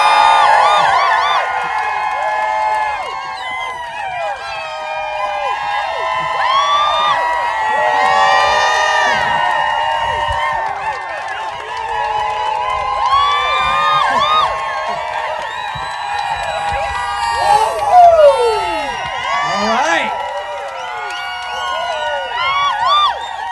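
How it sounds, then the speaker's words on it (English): A rally crowd cheers and whoops loudly and steadily for over twenty seconds, with many overlapping shouting voices, high calls and whistles rising and falling. "let's do a little, just some cheering"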